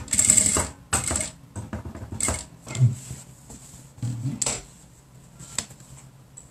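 A domestic sewing machine running with a normal needle, stitching velcro onto a fabric bread-bag style eco bag in short bursts of rapid mechanical clatter separated by brief pauses, close and moderately loud, with some faint handling noise.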